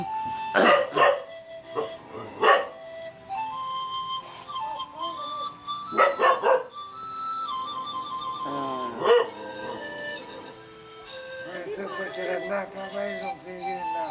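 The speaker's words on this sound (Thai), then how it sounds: "ไม่เห่าไม่เห่า" A dog barks in several loud, close bursts of sharp barks and yips, with whining tones between them. People talk at times in the gaps.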